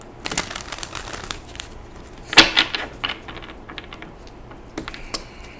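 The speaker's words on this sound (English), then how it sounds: "I'm going to do a little shuffling now" Tarot cards being shuffled by hand in a quiet room: a dense run of soft, papery riffles and taps, with one louder burst near the middle, close to the mic and with no voice.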